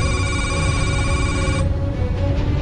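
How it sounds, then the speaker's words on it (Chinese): A telephone rings with an incoming call late at night, a steady electronic ringtone of sustained tones that plays for about a second and a half, then cuts off and leaves a dense background hum. "突然接到了一个女人打来的电话"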